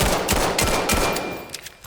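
Rapid pistol fire in the video game Weapons of Vail, a quick run of sharp close shots in an uneven rhythm with short gaps between bursts.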